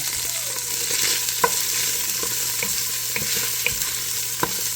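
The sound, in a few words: ground pork frying in a pan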